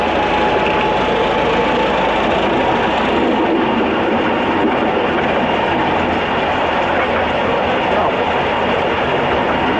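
A miniature train on the Ruislip Lido Railway rumbles steadily along its track, a continuous close clatter of wheels and a constant mechanical hum with no pauses throughout.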